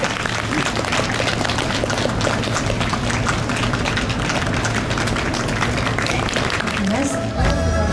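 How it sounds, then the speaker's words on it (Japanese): A crowd at an outdoor plaza stage at the 2020 Kobe Nankinmachi Spring Festival gives warm, sustained applause after a tai chi performance. Dense, even clapping fills the whole stretch while an announcer talks over it. "どうぞ温かな拍手お送りいただきましょう"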